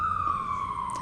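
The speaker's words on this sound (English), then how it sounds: "hold for sirens" A steady, high siren wails at a distance over low traffic rumble, holding one slowly sliding tone.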